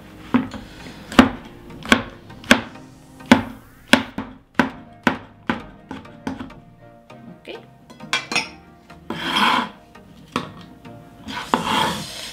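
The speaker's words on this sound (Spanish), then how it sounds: "mis hongos de shiitake, voy a cortar 3 de estos" Knife slicing shiitake mushrooms on a cutting board with a dozen sharp, regular chops, close and clear, followed by softer rubbing and scraping sounds near the end.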